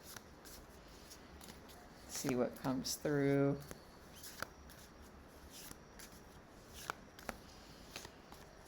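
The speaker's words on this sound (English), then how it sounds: "So I'm going to shuffle here." A Light Seers tarot oracle deck being shuffled, a few soft card riffles and scrapes close by, with a voice speaking briefly around them.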